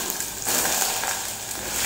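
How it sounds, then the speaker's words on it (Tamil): Finely chopped large onions go into hot oil with curry leaves for a tapioca fry, and a steady, bright sizzle with a faint scraping of stirring runs throughout, close and fairly loud. "நல்லா எண்ணெயில் ஒரு நிமிஷம் வதங்கிடுங்க."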